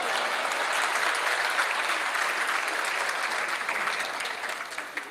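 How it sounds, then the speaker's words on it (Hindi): Sustained applause from a large crowd fills a hall, dense and even, tapering slightly toward the end. "मैं कसम खाता हूँ ये हॉल तालियों से गूंजता रहेगा"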